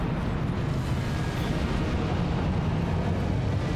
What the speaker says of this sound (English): these volcano explosions actually one-shot me